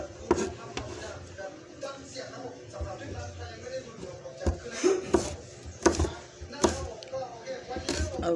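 A kitchen knife slices ingredients for pancit canton on a cutting board, giving sharp irregular knocks close by over a steady background hum.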